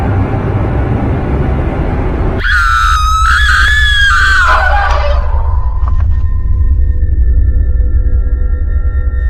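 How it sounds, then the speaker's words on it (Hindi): A high, wavering scream rings out from outside over a constant low rumble, lasting about two seconds and trailing into fainter, thinner cries before fading, with the steady rumble continuing underneath throughout. "बाहर से किसी के चिल्लाने की तो आवाज आ रही है"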